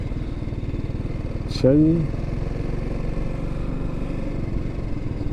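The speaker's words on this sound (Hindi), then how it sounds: "काफ़ी बाइकर इकट्ठे हुए हैं यार यहाँ पर तो।" Motorcycle engines idling and rumbling among a gathering of bikers in the Swiss Alps, a steady close pulsing drone throughout, with a brief spoken remark over it.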